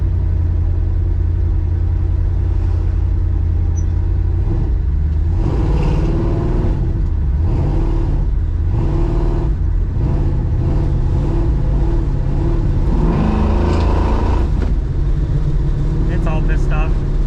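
A 1967 Chevy Nova's engine holds a high idle with a steady mid-pitched hum that wavers and surges now and then, while people talk over it.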